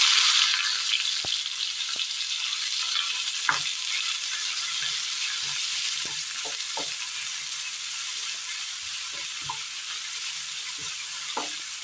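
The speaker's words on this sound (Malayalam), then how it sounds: "പൊട്ടിയതിന് ശേഷം ചെറിയുള്ളി ചതച്ചത് ഇട്ട് കൊടുക്കാം" Steady sizzle of crushed shallots frying in hot oil after mustard seeds have popped, with occasional sharp crackles and pops throughout; no voices.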